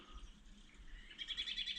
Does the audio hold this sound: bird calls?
yes